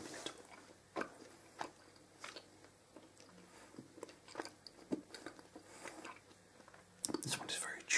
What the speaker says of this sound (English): This one is very chewy. Very, very chewy.